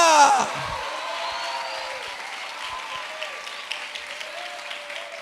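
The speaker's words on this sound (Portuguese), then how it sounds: "Dê um aplauso, um grito de vitória" A church congregation bursts into applause and shouts of victory: a loud initial roar with cheers that settles into steady, sustained clapping filling the room.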